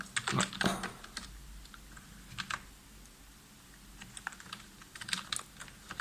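Soft, quiet typing on a computer keyboard, with irregular clusters of keystrokes and brief pauses as commands are entered into a workstation's EDK2 shell.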